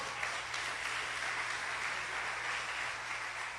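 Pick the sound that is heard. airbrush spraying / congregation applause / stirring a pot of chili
congregation applause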